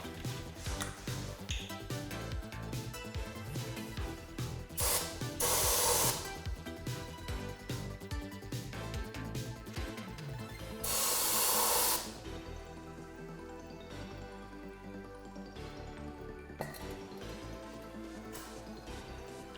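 Two short bursts of brake cleaner spraying, a pressurized hiss each about a second long, standing out over a busy background of clatter and movement while working on a Pontiac Fiero GT.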